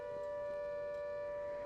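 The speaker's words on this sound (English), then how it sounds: "You can still hear the air raid sirens going." A steady, droning air raid siren in the submarine video game Silent Hunter 5, near U-boat pens, holds one sustained tone, continuous and fairly faint as if at a distance.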